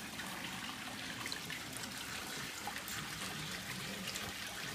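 Creek water runs through a small backpack sluice used for gold prospecting, a steady trickling, gurgling wash that holds even and close for several seconds with no voices.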